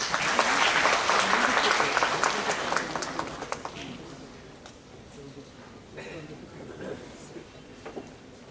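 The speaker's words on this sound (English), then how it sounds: "A huge round of applause for him" Audience applause for a former RBI chief general manager taking the stage at an entrepreneurship awareness event, a loud dense burst of clapping that fades over several seconds into a quieter room with scattered claps and faint talk.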